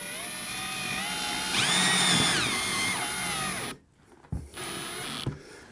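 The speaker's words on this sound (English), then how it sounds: "So we're going to drill for a little bit, and when I see the pilot come from the other side, we'll switch around and finish drilling from the other end." A power drill fitted with a pilot bit bores through metal, its whine running steadily, rising in pitch for a stretch midway, then cutting out abruptly and restarting briefly near the end. Nearby, with no talking.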